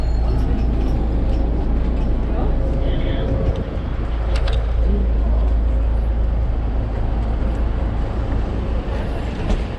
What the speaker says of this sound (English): So that's the bus we've got to catch, bus 15